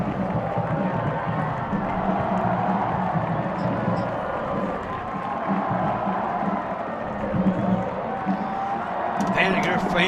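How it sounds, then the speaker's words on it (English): Vandegrift high school football fans roar from the stands during a night game against Longview, a dense, steady crowd noise with cheering and scattered claps, loud throughout with voices mixed in. "Vandegrift fans are going nuts down there right now"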